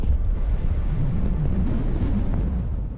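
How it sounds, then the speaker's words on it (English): A strong katabatic wind pours down off the mountains across an Arctic glacier in a blizzard, a loud continuous low roar buffeting the microphone without a break. "We got hit with a big katabatic coming off the mountains here."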